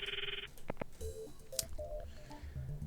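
A phone in the Steins;Gate video game dials out, a steady dial tone cut by two quick keypad beeps, then a short sequence of distinct tonal blips, clean and alone at low volume.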